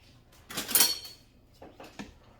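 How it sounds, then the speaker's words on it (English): Soy cream is stirred into a plant-based Zuppa Toscana soup in a pot, giving a few soft scrapes and clinks of a spoon against the pot's side. Close and fairly quiet, with no talk. "And we stir this, we give this a good stir"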